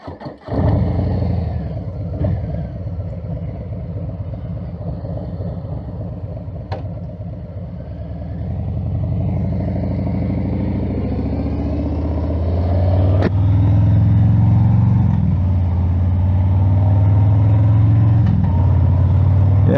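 A 2023 Harley-Davidson Street Bob motorcycle engine starts with a sudden burst, then idles in a steady low rumble and revs up louder toward the end. The engine is heard close and alone, with no voices.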